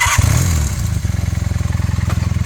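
A Honda CM400A Hondamatic motorcycle engine cranks briefly on its electric starter, catches, and settles into a loud, close, lumpy idle with a steady pulsing beat.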